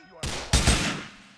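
Gunfire in Grand Theft Auto IV: a few sharp, close shots in quick succession, the loudest pair landing almost back to back, each trailing into a short ringing decay.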